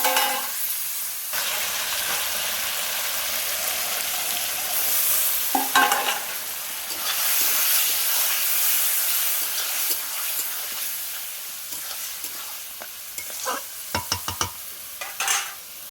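Marinated chicken sizzles and fries loudly in a hot pan for chicken kosha, a continuous close hiss interrupted by bursts of stirring and scraping.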